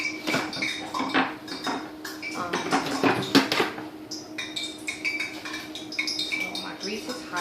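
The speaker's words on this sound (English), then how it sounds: "So I'm going to start by getting a plate out of my cabinet." Ceramic plates clink and knock as one is taken from a kitchen cabinet, several light, close clattering taps and scrapes in quick succession, with a person speaking softly over them.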